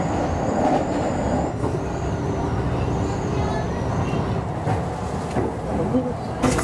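Rumble and rattle of a Kintetsu express train running from Osaka Namba toward Nara, steady close onboard rail noise throughout with a faint high whine and some speech.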